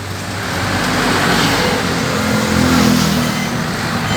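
A motorcycle engine runs close by, a steady loud drone that swells and eases over a few seconds amid outdoor street noise, with no talking.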